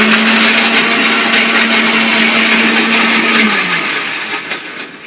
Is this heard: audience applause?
no